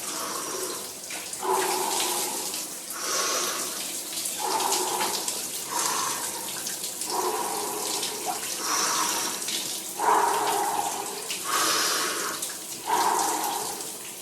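Ice-cold shower water pours and splashes in bursts, loud and close, with the spray repeatedly broken and resuming as someone moves beneath it during a Wim Hof cold exposure routine.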